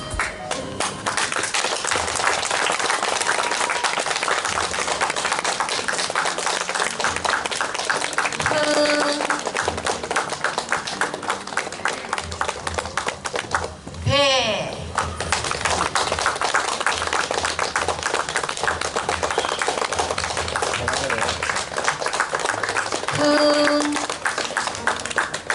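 Sustained audience clapping at a Korean coming-of-age ceremony, dense and loud throughout with a short dip in the middle and a brief tonal sound cutting through.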